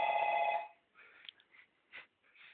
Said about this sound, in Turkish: kusura bakmayın telefonum çalıyor